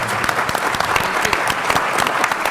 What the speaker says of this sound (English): I want to give our panel a warm round of applause for joining us this afternoon